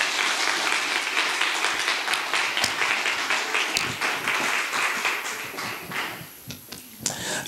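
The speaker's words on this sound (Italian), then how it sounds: "facciamo un applauso al maestro" An audience applauds a maestro at a church gathering: dense, sustained clapping for several seconds, thinning and becoming more scattered toward the end.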